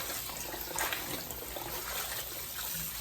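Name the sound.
water running in a kitchen sink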